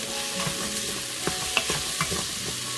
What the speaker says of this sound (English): those onions, they've had roughly about 5 minutes just on the base of that pan with the oil in there on frying